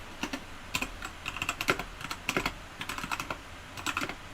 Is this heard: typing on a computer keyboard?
yes